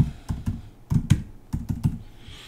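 Keys clatter on a computer keyboard as a business address is typed into a form, in short irregular bursts of close, crisp clicks with brief pauses between them.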